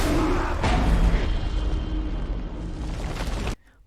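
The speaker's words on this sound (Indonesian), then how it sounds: "Kendaraan SPBU pun meledak." A loud explosion roars and rumbles for several seconds with crackling debris, then cuts off abruptly into near silence.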